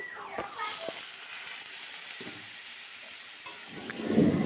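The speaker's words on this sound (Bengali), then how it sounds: "এবারে আমরা এর মধ্যে দিয়ে দেব প্রথমে সামান্য পরিমাণে জল।" Water hits hot, sizzling masala in a pan while Bengali fish curry with potol and potato is being cooked. A soft, steady sizzle builds into a louder hissing burst near the end.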